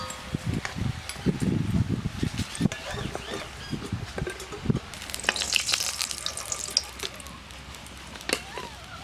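Puli pitha sizzles as it fries in a pan, with crackling oil, scraping and stirring sounds close by and a brighter burst of frying partway through.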